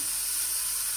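Tomatoes stewing in a pan give off a steady, close sizzle, a hissing bubble that holds even and unbroken throughout, with no talk over it.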